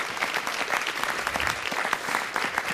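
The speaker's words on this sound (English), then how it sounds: "stand in the audience so we can give you a round of applause" Audience at a city council meeting applauding volunteers who stand, a brisk, dense round of clapping heard close and steady throughout.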